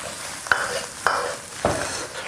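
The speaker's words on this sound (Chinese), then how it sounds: "用大火先煸炒一下" Braised pig face tossed with scallion and garlic in a hot wok over high heat, with a steady sizzle under three sharp spatula scrapes spaced about half a second apart, no voices.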